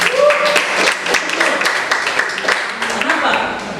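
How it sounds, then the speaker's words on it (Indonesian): A classroom group applauds a classmate, with loose, scattered clapping lasting a few seconds at moderate loudness and voices mixed in. "Tepuk tangan buat teman kita."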